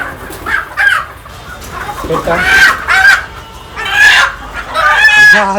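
Rooster and hens on a farm, with repeated loud clucking and crowing calls rising and falling close by, the bursts coming one after another with short gaps between them.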